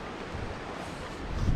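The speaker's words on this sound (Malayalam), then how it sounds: "നല്ല കാറ്റുണ്ട്," Steady wind rushes across a sandy riverside beach on the Ganga near Rishikesh, a broad, even roar close to the microphone that swells slightly at the end, with no voices.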